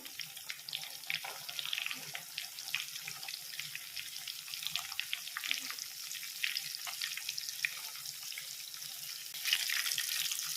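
Tamarind-marinated fish frying in a pan, a soft continuous sizzle and crackle at moderate distance, with faint splashy background noise throughout and no voices.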